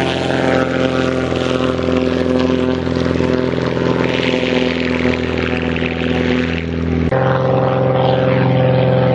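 A propeller airplane roars loud and steady near a lake at takeoff power, its droning harmonic buzz continuous throughout, with a slight shift in pitch near the end.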